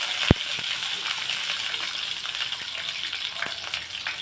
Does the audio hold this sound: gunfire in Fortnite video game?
no